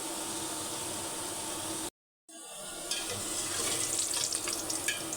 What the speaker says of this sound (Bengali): মিডিয়াম আঁচে ভেজে নিতে হবে, লাল আঁচে।